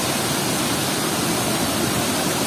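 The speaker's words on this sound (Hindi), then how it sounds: "करमसुरी वाटरफॉल" Krang Suri waterfall in Meghalaya roars as a steady, dense rush of falling water, close and loud and unbroken throughout, with no voices over it.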